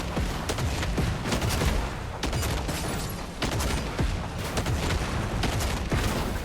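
Rapid, loud, sustained turret gunfire in Fortnite, dense overlapping bursts of shots with brief gaps, heard up close without speech.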